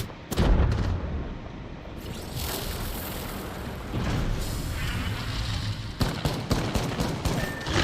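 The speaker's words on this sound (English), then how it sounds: "They're shooting at me." Gunfire crackles through an online shooter game match, with sustained bursts of automatic weapon fire and heavy booms rolling continuously at close range, loud and dense with brief sharper shots near the end.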